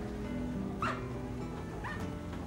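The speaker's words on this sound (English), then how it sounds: "Must be mindful of Joan's dog" A dog gives a couple of short, faint yelps and whimpers at a distance against a steady background hum in an indoor setting.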